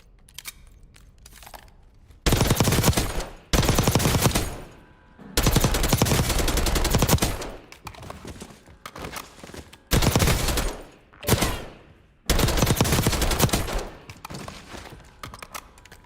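Unsuppressed gunfire in Call of Duty Warzone: several loud bursts of automatic fire, some sustained for a second or more, separated by quieter gaps, with no talking.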